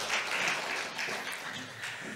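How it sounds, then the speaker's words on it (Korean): Congregational applause during a Sunday church worship service, a steady wash of many hands clapping at moderate distance for about two seconds, with no voices over it. "영광의 박수 올려드리겠습니다"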